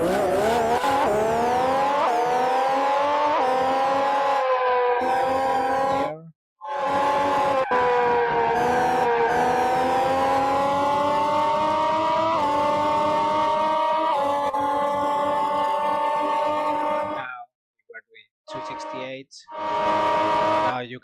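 Formula One car engine screaming under heavy throttle in Grand Prix 2, 1991 French round, rising through gears with sharp shift breaks and a near-constant loud whine, with someone speaking over it.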